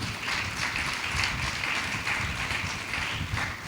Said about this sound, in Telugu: నా మాట అర్థమైన వాళ్ళు చప్పట్లు కొట్టండి.